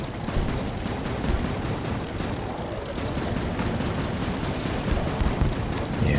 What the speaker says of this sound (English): I want to go after these aircraft and then start shooting them down.